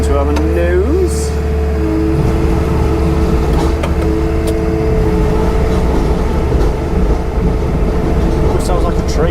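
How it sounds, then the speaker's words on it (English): A yellow JCB Pothole Pro machine cuts into a road surface, a loud, steady mechanical grind and rumble with a sustained whining tone, running continuously and close up while people talk over it. "Sounds like a train, like choo choo choo choo, cutting, yeah, cutting through."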